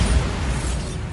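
The Bombarda explosion spell in the wizarding game Hogwarts Legacy erupts as a short, loud, full-bodied blast that fills the whole moment and fades only slightly.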